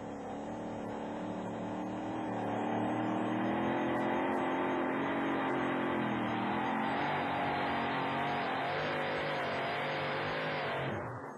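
Monster truck Mad Dog's Revenge roars steadily at full throttle during a stadium pull-off, its loud sustained engine drone holding for several seconds before cutting off near the end.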